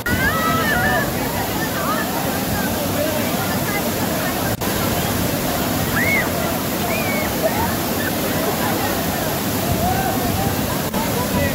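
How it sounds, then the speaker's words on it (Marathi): A large waterfall roars close by in a steady, loud wash of falling water that fills the whole clip, with faint voices and whistle-like sounds above it. "बघू शकता आमच्या पाठीमागे किती मोठा धबधबा आहे"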